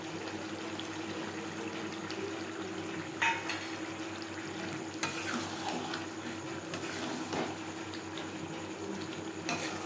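Potatoes stirred in fish oil in a frying pan give a soft continuous sizzle with occasional scraping and clacking strokes of the spoon against the pan, fairly quiet and close, with no speech.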